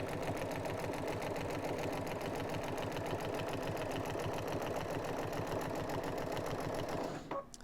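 A sewing machine hums in a fast, even rhythm while stitching binding onto a quilt, running continuously and up close before slowing and stopping right at the end.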